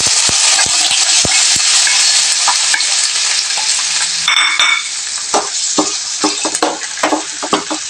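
Liver sizzling and frying in oil in a pan for igado, a loud continuous sizzle with scraping stirring strokes toward the end, close by with no talk.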